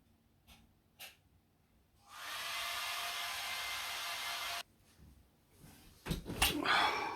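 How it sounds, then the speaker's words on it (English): A hair dryer blows steadily for a few seconds, then cuts off, followed by faint handling noises and a short burst of rustling. "I need to dry it out with hair dryer"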